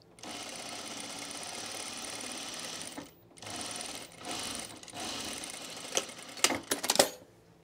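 A domestic sewing machine stitches fabric with its presser foot riding over dotted material, a steady fast mechanical whir in several runs broken by brief pauses, ending in a few louder clunks and stops, with no voices.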